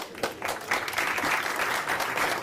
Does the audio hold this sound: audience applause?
yes